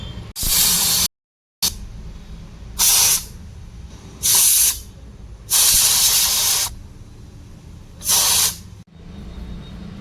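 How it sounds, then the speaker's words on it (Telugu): A pressure cooker on high flame, cooking rice for sambar rice, lets out five loud bursts of steam hiss separated by short, quieter gaps. "ఫోర్ విజిల్ ఫోర్ విజిల్స్ పెట్టుకోవాలి మూడు హై ఫ్లేమ్లో పెట్టుకోవాలి"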